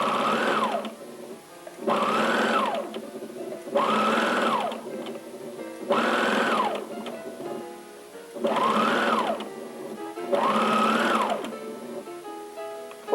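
A home sewing machine stitches quilt pieces in six even bursts of about a second each, separated by short pauses, running close and steady with no talking.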